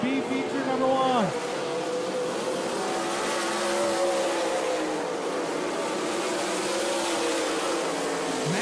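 Dirt track race cars roar around an oval through the turns and down the backstretch, a steady, loud droning engine blend with pitch sweeps as cars pass, under an announcer's commentary.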